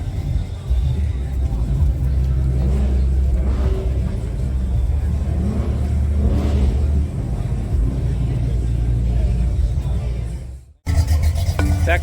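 A street freak drag car at the Street Machine Nationals rumbles loudly and steadily with a deep, heavy engine note. The sound cuts out briefly near the end, then resumes at full strength.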